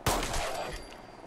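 Enemy gunfire in the video game Fallout 4 near a feral ghoul: a sharp shot cracks in, followed by a continuous rattling burst of fire that slowly fades over a second or so.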